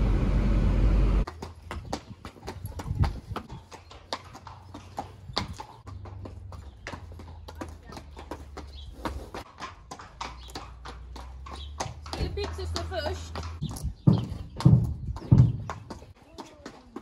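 Horses' hooves clip-clop on a hard surface in an irregular rhythm, close by, as they are led off a truck into stable boxes, over a low engine rumble, with a few louder knocks near the end.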